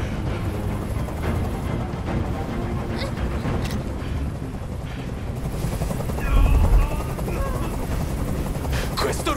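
Helicopter noise in the video game Detroit: Become Human: a loud, steady rotor drone that runs throughout, with a brief heavier rumble partway through and voices speaking over it.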